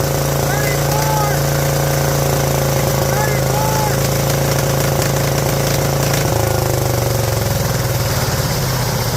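A Yanmar L100 diesel engine runs steadily and loudly close by, a continuous rough drone with a slight shift in tone partway through, and no voices over it.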